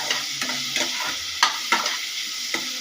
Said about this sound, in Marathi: त्याच्यामध्ये आपण एक कापून चिरलेला कांदा, एक कापून चिरलेला टोमॅटो टाकायचा आणि त्याला पण असं खूप छान असं भाजायचं।